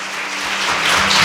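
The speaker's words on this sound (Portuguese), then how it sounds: "Você pode aplaudir o nome do Senhor" A church congregation claps together during a Portuguese-language evangelical service, a brief, dense burst of applause that builds slightly in loudness, with no speech over it.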